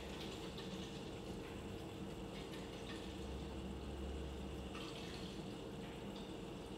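An Eco King boiler pump runs and de-airs: a constant low mechanical hum with a faint steady whir, overlaid by soft trickling and gurgling as air works through the water, fairly quiet and unbroken.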